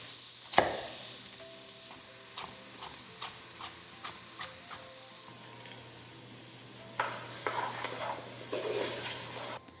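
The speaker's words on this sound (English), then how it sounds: "we're going to add the onion along with 2 large diced carrots" Onion and two large diced carrots stir and sizzle in a pan for a short rib ragu, with a sharp clank at the start, a steady series of spoon taps and scrapes, and a louder burst of frying and stirring near the end.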